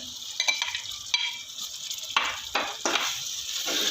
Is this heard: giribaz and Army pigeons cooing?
no